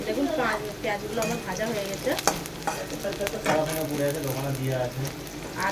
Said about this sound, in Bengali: কুচিগুলো দিয়ে দিলাম দিয়ে লাল লাল করে একটু ভেজে নেবো